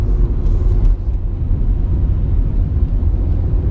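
A Honda Civic EM2 with a manual swap revs toward 4,000 RPM in limp mode, a heavy, muffled engine rumble that holds steady then bogs down rather than climbing, with no talk.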